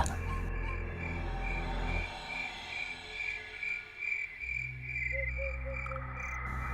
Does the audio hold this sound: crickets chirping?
yes